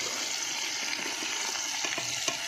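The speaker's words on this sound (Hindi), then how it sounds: "थोड़ा सा पानी डालेंगे।" Water poured steadily into a pan of Pakistani curry during cooking, a continuous moderate splashing pour with faint clinks, no talk.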